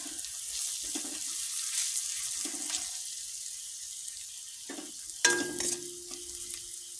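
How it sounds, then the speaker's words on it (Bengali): Spices with kasuri methi sauté in a pan, heard as a soft, quiet sizzle broken by several scraping stirs of a spoon, then a sharper clatter and a brief faucet-like rush of water toward the end. "কাশুরি মেথিটা দিয়ে দিব এটাকে একটু কষাবো"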